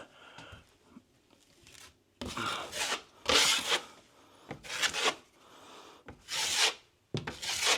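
Cornice cement is skimmed over a drywall repair with repeated scraping strokes, about six close rasping sweeps separated by brief pauses, with no voices.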